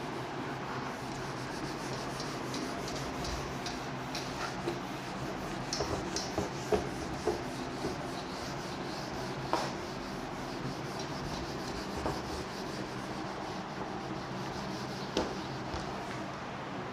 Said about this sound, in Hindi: ना इसको रब कर देती हूँ मैं।